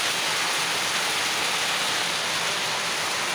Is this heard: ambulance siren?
no